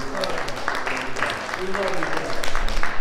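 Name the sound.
congregation giving a big hand clap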